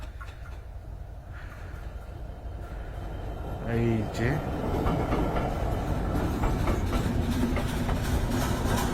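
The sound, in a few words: train approaching and arriving at a station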